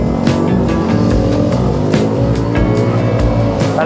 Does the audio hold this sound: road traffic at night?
yes